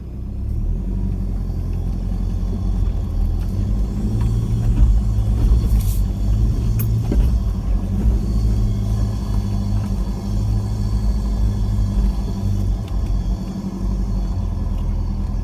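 A 4WD vehicle's engine labours up a steep, rough track, a steady low rumble with a slight swell midway, no voices over it.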